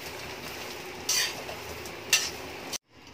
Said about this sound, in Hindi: हमारा खसखस जलेगा भी नहीं और साथ में मखाने भी भुन जाएंगे